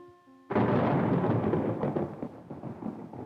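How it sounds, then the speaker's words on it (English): Thunder rumbles through a storm, a sudden loud crack bursting in and rolling on as a broad, sustained roar that slowly eases, close and powerful with no voices. "Hey, there's what you usually expect, lightning. And there's the thunder."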